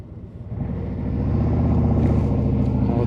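A 2024 Harley-Davidson Road Glide motorcycle on the move, its low engine rumble steady and building slightly as it rides, close and continuous with no talk.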